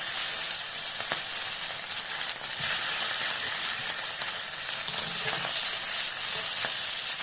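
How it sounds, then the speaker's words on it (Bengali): Whole puti fish (small barbs), large and full of roe, frying in hot oil, giving a continuous loud sizzle with scattered sharper pops and faint scraping, steady from start to finish without speech. "আর যে তেলটার মধ্যে আমি এবার মাছগুলো দিয়ে দিলাম"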